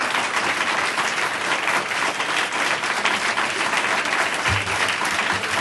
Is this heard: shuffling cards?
no